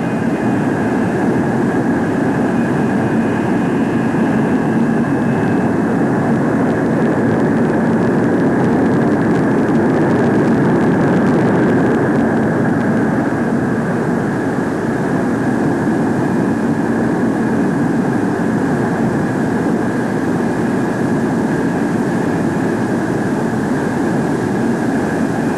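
A USAF F-102 jet aircraft on approach and landing, its engine a steady, loud broadband roar with a sustained whine holding throughout, continuous and without voices.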